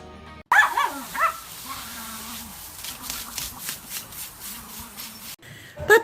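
Puppies bark and yip in several short, loud bursts, then whimper in between, close by, with a person's voice calling to them at times.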